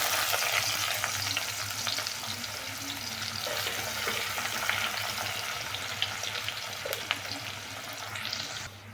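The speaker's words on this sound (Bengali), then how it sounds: "এখন মাছ ভাজা তেলে পেঁয়াজ দিয়ে দেব।" Onions fry in hot oil left over from frying fish, giving a loud, continuous close-up sizzle with faint stirring clicks and scrapes throughout and no talking.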